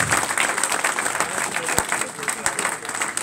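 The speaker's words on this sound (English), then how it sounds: "Let's have a big round of applause." Audience applause for the Belle Vue Aces speedway team at a press conference after a league semi-final second leg, a dense steady clapping from a room of people with a few sharper individual claps standing out.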